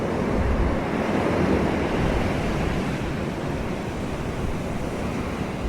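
Ocean waves in a summer exploration video game, a continuous close rolling surf wash with a windy, rumbling low end that swells slightly then eases toward the end.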